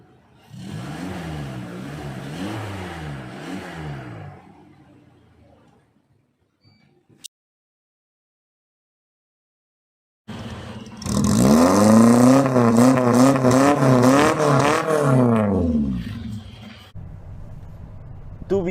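A car engine with no catalytic converter revs in two separate bursts with a quiet gap between them. The second burst is louder and rises and falls in pitch.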